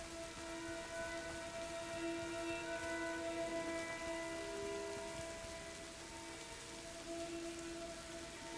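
Steady rain falling in a dark, cold game setting, a constant dense patter on surfaces with a low droning tone running underneath, no talk.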